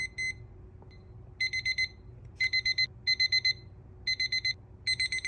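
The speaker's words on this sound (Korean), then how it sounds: "그래서 지금 알람을 맞춰보고 키면 이런 소리가 나요." A Supreme x Seiko alarm clock rings in short clustered bursts of bright, high beeps, repeating with brief gaps, clear and moderately quiet against a faint hum.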